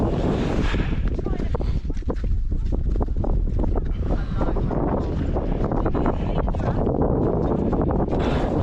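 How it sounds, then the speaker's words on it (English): Strong wind buffets the microphone in a constant roar on a hillside during a winter mountain skills course, with faint voices under the gusts. "it's a bit windy"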